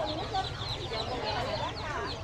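Chickens cluck and squawk close by at a rural Mekong Delta market, a busy overlapping chatter of hens with soft background market noise.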